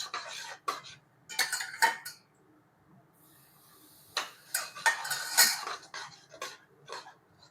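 Mysore pak mixture is stirred in a pan with oil over a low flame, producing bursts of scraping and clattering strokes separated by quiet pauses, close by and with no talking.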